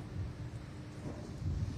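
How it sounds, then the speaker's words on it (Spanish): Heavy rain pours steadily during a thunderstorm behind an outdoor evening news report, with low rumbling thunder rolling underneath the dense, continuous wash of rainfall. "No puedo dejar de notar la intensa lluvia detrás tuyo"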